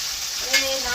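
Vegetables sizzle and fry in a pan in a hill-village home kitchen, a steady close crackle with a brief louder stir partway through and no talking.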